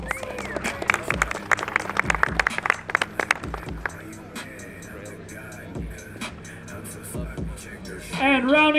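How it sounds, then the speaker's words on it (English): At an outdoor car show award ceremony, a crowd gives a round of applause, a burst of dense clapping and cheers that thins into scattered claps, with a loudspeaker voice talking and cheering over it toward the end. "give him a round of applause"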